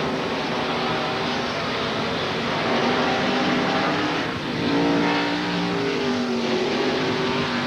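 NASCAR stock cars at the 1994 race at Sears Point Raceway climb a hill in a loud, continuous engine roar, with revving rising and falling as several cars pass near the microphone in single file.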